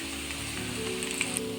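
Bitter gourd pieces frying in a pan with no salt added, a steady soft sizzle throughout, close and even, with no voices.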